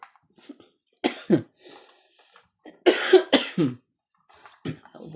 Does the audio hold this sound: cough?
yes